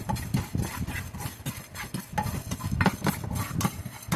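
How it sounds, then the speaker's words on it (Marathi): Whole cloves, peppercorns and cinnamon are dry-roasted in a pan for Kolhapuri misal, giving continuous busy scraping and rattling as a utensil stirs them, close and steady with no talking. "लवंग मिरे दालचिनी हे जे खडा मसाला आहे ते आपल्याला याच्यात भाजून घ्यायचं आहे"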